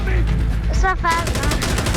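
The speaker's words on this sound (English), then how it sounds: "I think the Vector is a fast one, Ava." Vector submachine gun fired in Insurgency Sandstorm, with loud close rapid bursts of automatic gunfire filling most of the span and a brief pause near the middle.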